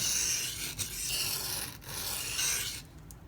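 Zero Tolerance 0393 knife with a CPM-20CV blade drawn over soaked sharpening stones, a steady close rasping rub in long continuous strokes with brief pauses between passes.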